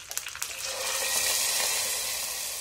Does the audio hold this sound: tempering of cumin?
yes